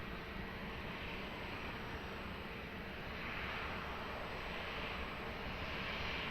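An airplane takes off at Lisbon Airport, its engines a faint, distant broadband roar that slowly swells over several seconds.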